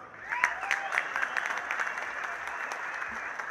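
Applause fills a hall at the opening of a fighting event, steady clapping from a crowd at moderate distance, continuous and even throughout without talk over it.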